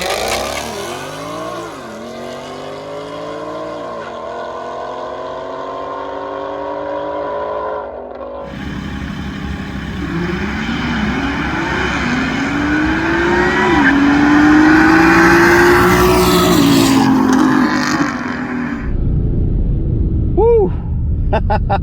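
A Whipple-supercharged Gen 5 Mustang GT launches at a drag strip, tires spinning briefly before the engine climbs through loud, rising gear pulls. The car roars close by for most of the run, then cuts off abruptly near the end.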